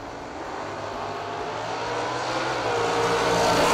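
A wingless dragster roars down a drag strip on a test-and-tune night, a loud, sustained engine blare that builds steadily in intensity, heard from trackside with no voices.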